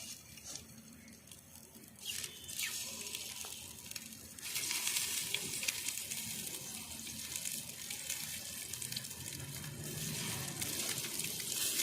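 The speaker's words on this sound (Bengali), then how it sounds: "নন স্টিকারের কড়াইতে আমি ডিমটাকে হালকা করে ভেজে নেব তেল দিয়ে দিয়েছি সর্ষের তেল" Eggs fry in mustard oil with a pinch of turmeric in a non-stick pan, a steady crackling sizzle that grows louder and denser midway and continues, close up.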